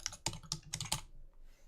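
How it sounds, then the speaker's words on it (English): Several crisp, close keystrokes sound on a computer keyboard while text is typed into Notepad++, a quick uneven burst of about five clicks in a quiet room. "as I'm typing it in using Notepad++"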